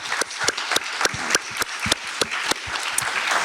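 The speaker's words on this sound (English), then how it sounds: "let's give our panel a round of applause" Audience applause for a panel closing out a session at the Louisiana Smart Growth Summit, with steady overlapping claps and a few sharper individual hand claps standing out, sustained at moderate loudness without talk.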